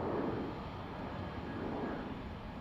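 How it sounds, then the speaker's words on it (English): Aer Lingus airliner arriving at Dublin Airport, a faint, distant broadband jet rumble holding steady from start to finish with no voices. "Aer Lingus from Budapest next to land."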